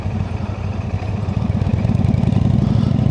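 A Royal Enfield Shotgun 650 motorcycle engine thrums steadily while being ridden with clutch control, a loud, close, even rumble that grows slightly stronger toward the end, with no voices over it.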